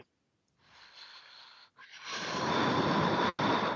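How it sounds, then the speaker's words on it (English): A person blows their nose in a couple of forceful, breathy bursts with a brief pause between, close and moderately loud. "Why you are blowing your nose?"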